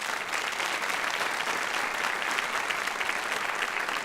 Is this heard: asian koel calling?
no